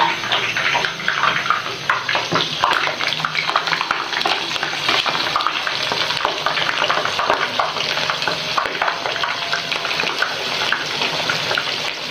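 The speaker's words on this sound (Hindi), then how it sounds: "ऑयल हमारा गर्म हो गया है, अब हम इसके अंदर टिक्कियों को फ्राई करेंगे।" Aloo tikki potato cutlets fry in hot oil over a low flame, giving a loud, dense, continuous crackling sizzle that holds steady throughout with no talk.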